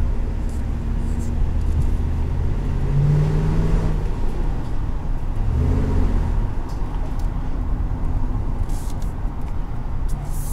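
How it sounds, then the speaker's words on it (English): A 2020 Chevrolet Express cargo van driving, its engine a steady low drone heard from inside the cab, with two rising-and-falling gear pulls and constant road noise; faint speech surfaces briefly. "let's go ahead and go for a drive."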